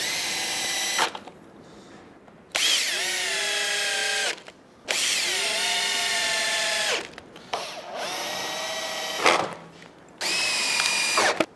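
A power drill drives screws to secure a rail on a post-and-rail horse jump kit, in several loud whirring bursts of a few seconds each with short pauses between them, close and alone.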